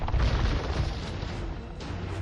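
Cannons firing at boats in a naval battle of a strategy video game, heard as a dense, continuous rumble of low booms and bursts throughout, fairly loud with no clear talk over it.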